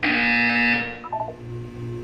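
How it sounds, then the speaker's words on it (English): A loud electronic buzzer sounds in the video game Portal 2, a harsh sustained tone for about a second that cuts off, followed by a low fading hum, with no speech. "You will hear a buzzer. When you hear the buzzer, look down at the floor."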